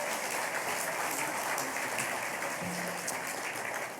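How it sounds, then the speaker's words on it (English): Audience applause at a charity gala, a sustained even roar of many hands clapping that stays steady the whole time, with faint background murmur beneath. "A round of applause to them, please."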